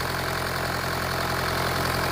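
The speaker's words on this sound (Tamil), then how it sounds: "இன்ஜின் ஒர்க் பண்ணி வண்டி ஸ்டார்ட் ஆகி ஓடிட்டு இருக்குங்க" A Mahindra Renault Logan car engine idling steadily after repair work in a garage, a continuous even hum with a low regular pulse, close and unbroken.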